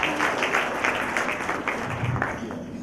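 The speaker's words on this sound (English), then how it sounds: "One round of applause." An audience at a Rotary Club of Madras gathering gives a short burst of steady applause, moderately loud with a dense patter of clapping hands.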